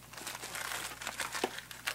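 Crinkly wrapping rustles and crackles as a cell phone is unwrapped by hand, with close, continuous crinkling and a few louder sharp crunches, no talking.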